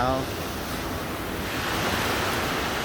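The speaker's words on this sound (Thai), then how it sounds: "เรามาเดินดูทะเลหัวหินนะครับตอนเช้า" Steady broadband wash of surf rolling onto the beach at Hua Hin, Thailand, in the morning, continuous and fairly loud, with some wind rumble and a brief voice at the very start.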